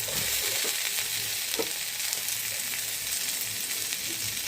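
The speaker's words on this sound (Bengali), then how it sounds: "পেঁয়াজ আর কিছু রসুন কুচি দিয়ে লাল লাল করে ভেজে নিয়েছি" Chopped onions, garlic and boiled potatoes frying in oil in a pan: a steady, close sizzle with a few soft stirring knocks, no talking.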